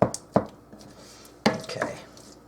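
Butter mashed into scooped baked potato, heard as a few sharp utensil knocks and scrapes against a dish, with soft squishing between them, close and fairly quiet.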